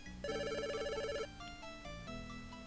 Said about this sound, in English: There's a phone ringing for our deaf viewers